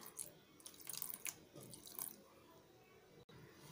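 Water splashing and trickling as freshly made homemade cheese curds are rinsed with plain water and squeezed by hand, a close, irregular run of wet drips and splashes with no talk.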